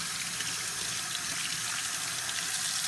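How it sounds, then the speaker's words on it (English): Water runs steadily from a kitchen tap while rinsing a peeled hard-boiled egg, a continuous close hiss of flowing water with no talk. "Let me turn on this water and rinse it off."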